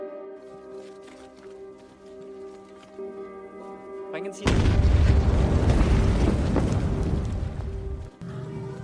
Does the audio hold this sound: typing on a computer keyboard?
no